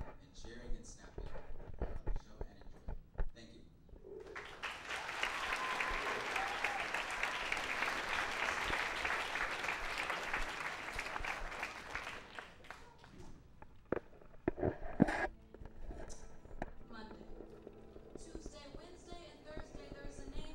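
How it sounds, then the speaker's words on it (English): A high school audience at a World Music Day performance bursts into sustained clapping and cheering for several seconds, loud and dense, then fades back into quieter talk and scattered noise. "please feel free to celebrate with us by standing, clapping, and cheering and snapping"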